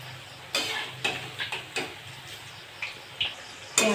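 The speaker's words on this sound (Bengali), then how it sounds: "আমি এবার উল্টে পাল্টে ভালো করে ভেজে নেব।" Onion pakoras turned over in hot frying oil, with a low steady sizzle broken by several sharp clicks and scrapes of a utensil at uneven intervals, close by and without talk.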